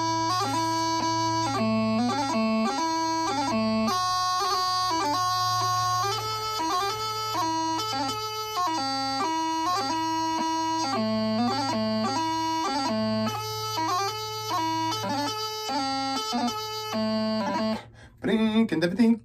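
Highland bagpipe playing the second part of the tune Susan MacLeod, a steady drone beneath a quick, ornamented melody with rapid gracenote embellishments, loud and continuous for nearly twenty seconds before cutting off abruptly.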